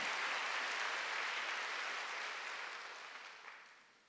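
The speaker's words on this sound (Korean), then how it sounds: "박수를 하세요" A church congregation applauding during a Sunday worship service, a soft, dense wash of clapping that holds steady and then gradually tapers off.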